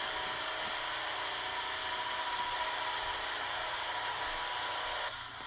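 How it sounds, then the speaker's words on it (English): A square buffer with an 80-grit mesh sands a floor, droning steadily and close, a constant motorized whir with no pauses, easing off slightly at the very end. "Then we sand with a square buffer with an 80 grit mesh."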